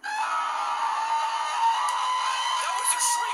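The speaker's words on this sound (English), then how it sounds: "That was the shriek we heard, right?" In the Roblox video game, a demon lets out a loud, continuous, piercing shriek that lasts the whole few seconds. It sits close and harsh, with no clear talk over it.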